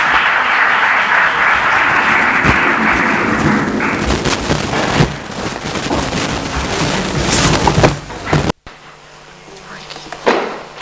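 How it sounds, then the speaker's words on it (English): An audience at a conference opening ceremony gives a speaker a long round of applause, dense clapping that thins out after about eight seconds before a sudden cut to a quieter room. "A round of applause for Vasco, please."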